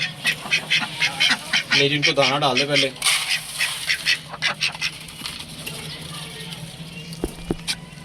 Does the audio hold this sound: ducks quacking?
yes